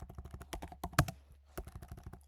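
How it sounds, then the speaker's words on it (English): Typing on a computer keyboard, a brisk run of separate key clicks with short pauses and one sharper louder strike, close and alone. "I'm doing a bad job of typing"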